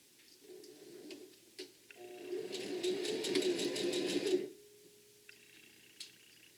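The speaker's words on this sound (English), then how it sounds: "This time you get to sew all the way through because we already made our opening for flipping the bag." A sewing machine stitches through a fabric bag in one steady run of about two and a half seconds, a quiet rapid whirring hum, with faint handling clicks before and after.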